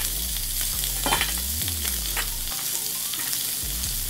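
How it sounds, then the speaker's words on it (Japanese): Pork sizzles on a Korean barbecue grill at home, a steady crackling hiss of fat frying with scraping and stirring sounds of utensils against the hot plate, close and continuous. "お肉、豚肉なんで、しっかり焼こう"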